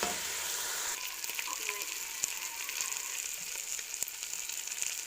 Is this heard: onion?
yes